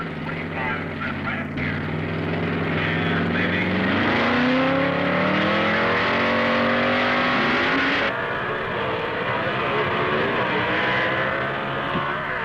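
Engines of vintage drag racing cars, including Carol Cottle's 1955 Chevy C-modified production car from Texas, roar loudly and steadily throughout, pitch climbing as they accelerate, with an announcer talking over the noise.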